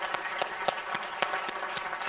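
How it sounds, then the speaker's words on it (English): Scattered audience applause at a talk, fairly faint, with distinct individual claps standing out irregularly over a soft wash of clapping. "Let's give her a big round of applause,"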